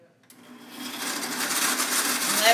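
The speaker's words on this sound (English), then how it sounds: "you're simply going to put your fruit down in the blender" After a click, a blender blending fruit for a smoothie spins up and grows steadily louder into a harsh, whirring roar.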